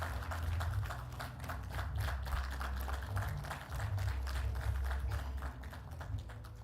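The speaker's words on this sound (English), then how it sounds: "A big round of applause, please." Audience at a panel discussion on economic growth in North-East India gives a round of applause, many hands clapping in a fast, even patter that carries on steadily at moderate volume.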